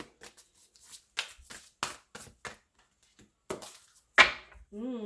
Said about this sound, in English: So, keep shuffling for Virgo, January 2022.